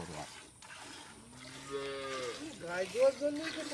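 A cow at a village dairy home gives a long, low moo close by, rising and wavering, over faint background noise.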